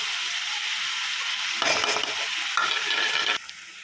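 Chicken with crushed ginger and garlic, salt, turmeric and chilli powder is stirred in a pan over a constant sizzle, with two bursts of scraping and mixing standing out up close and no talking.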